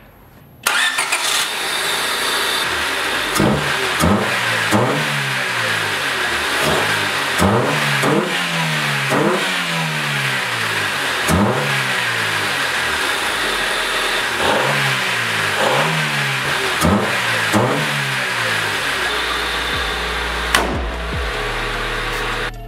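Close, loud 1995 Honda Civic engine with an aftermarket intake revving after startup: a string of quick throttle blips rising and dropping over a steady idle, with no voices.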